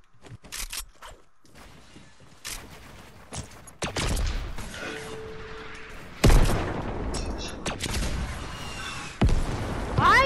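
Rocket launcher shots and heavy booming explosions in Fortnite come in several loud bursts amid scattered gunfire and game effects, with little talk over them.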